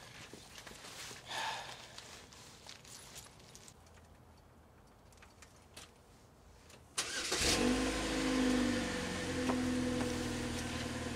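A Chevrolet Malibu's engine runs steadily, first as a low background rumble, then much louder and closer with a broad roar and a sustained mid-range hum from about seven seconds on.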